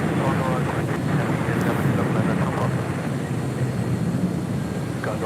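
A Condor Airbus A330-200 arriving at LAX from Frankfurt makes a steady, broad jet-engine roar with faint, sustained rumble while a voice talks over it.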